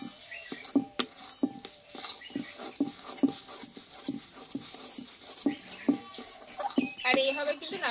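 A utensil stirs yardlong beans with egg in a pan, giving repeated close scraping taps in a loose rhythm over a quiet sizzle, with a few sharper clinks.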